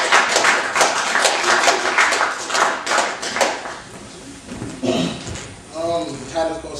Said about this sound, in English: clap as the brother makes his way to the stage.